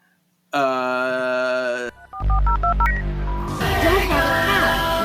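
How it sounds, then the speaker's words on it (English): Telephone keypad dialing tones from a 1990s X-Men cartoon: a run of short beeping tones in a quick stepped sequence, following a sustained harmonic tone and leading into loud, busy cartoon sound and music. "They're on the phone, so I guess a phone."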